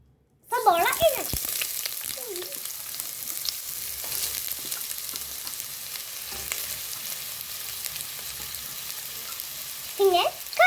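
Onion goes into hot oil for an ash gourd chicken curry and sets off a loud, steady frying sizzle that lasts the whole stretch, with brief voices near the start and end.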